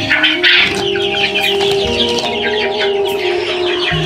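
Fayoumi chickens clucking on a farm in Baniachong, several birds calling close by in overlapping bursts over a continuous busy coop background, no speech.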